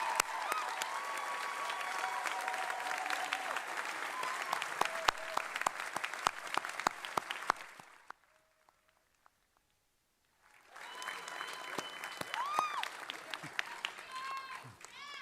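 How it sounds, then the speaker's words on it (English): Audience applause at a graduation recognition ceremony for Master of Global Affairs graduates, loud sustained clapping with cheers that cuts out briefly, then resumes just as strongly. "And one more round of applause for our 2023 Master of Global Affairs graduates."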